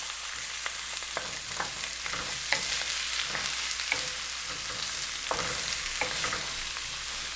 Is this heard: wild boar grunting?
no